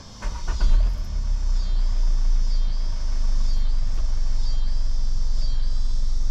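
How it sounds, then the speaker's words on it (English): A car engine cranks and catches, then settles into a steady, loud idle with a low rumble and a faint high whine, running close by on ramps without talk. "So we're gonna go ahead and start the car up."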